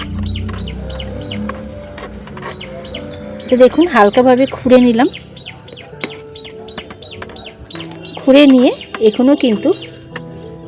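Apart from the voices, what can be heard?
birds calling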